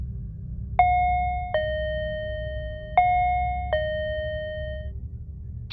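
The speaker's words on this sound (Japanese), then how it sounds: "チャイムを鳴らすも返事はない。" An apartment door chime on the sixth floor of an eight-storey building rings twice, each a clear two-tone ding-dong that decays slowly in a quiet hallway.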